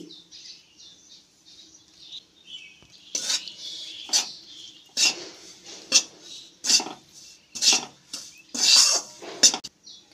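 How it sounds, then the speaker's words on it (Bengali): Flour stirred in a dry wok makes repeated scraping strokes of a spoon against metal, sparse at first and then in a steady run of sharp, close scrapes. "এখন শুকনো কড়াইয়ে নাড়চাড় করে নেব।"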